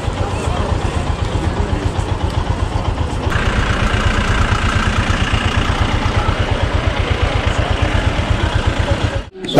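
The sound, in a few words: motorcycle engine idling while parking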